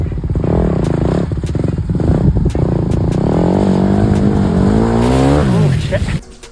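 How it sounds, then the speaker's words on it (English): A vehicle engine revving loudly and continuously while stuck in a deep mud hole, the pitch rising and straining near the end before cutting off abruptly; people talk over it. "Give it a little gas with it, Emma."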